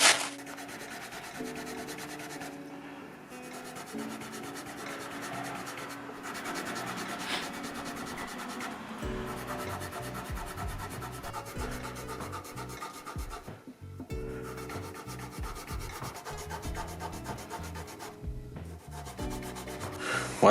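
A Jackson USA Soloist SL-2H in black being sanded with 400 grit sandpaper: steady, close rubbing strokes that run continuously for about twenty seconds with a dense, scratchy texture and no talking.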